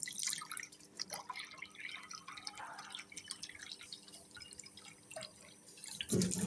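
Water trickles and drips into a cooking pot layered with rice and vegetables for maqluba, quiet, close and uneven, with a few soft splashes and a brief louder clatter at the end.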